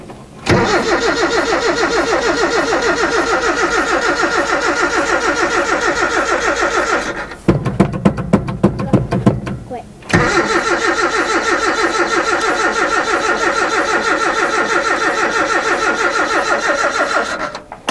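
A 1980 Chevy LUV 4x4 engine cranks over repeatedly with a rapid rhythmic churning that runs for several seconds, pauses briefly with a sputter, then resumes cranking without catching.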